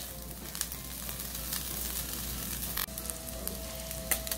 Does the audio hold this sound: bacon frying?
yes